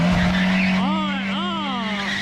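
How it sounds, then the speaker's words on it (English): A smart car doing a burnout, its tires squealing in a loud sustained screech with wavering pitch over engine noise, close by. "this smart car did a burnout finally"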